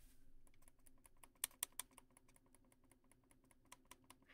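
Quiet computer mouse clicking held right next to a microphone, with faint, rapid, evenly spaced clicks and a few sharper louder clicks near the start and end, all very soft and close.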